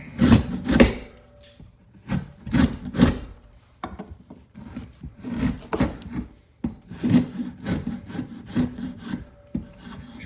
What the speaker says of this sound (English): This is a very labor-intensive job, but this is how we get the bark off.